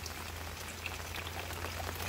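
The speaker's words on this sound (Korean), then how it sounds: "장맛비가 내리고 있는데" Steady monsoon rain falls on a July morning, a dense even patter that fills the whole stretch without pause, with a low hum underneath and no talking.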